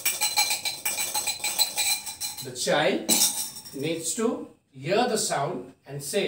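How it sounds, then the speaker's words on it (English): A metal spoon stirs and clinks against a glass, making a steady run of light rattling chimes for about two seconds before a person starts talking. "The child needs to say that you are using a spoon and a glass. It is a sound of mixing something."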